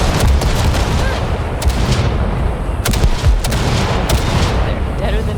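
In Cyberpunk 2077, gunfire blasts ship wrecks as a string of loud, sharp shots and booms, some closely spaced, over a rumbling background of game noise.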